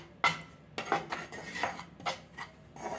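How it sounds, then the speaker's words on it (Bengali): Spoon scraping and clinking against a hot pan while garam masala powder is mixed into a spice blend, with several sharp metallic clatters at an uneven rhythm, close and fairly loud. "ভালো করে এগুলোকে মিশিয়ে দেবো।"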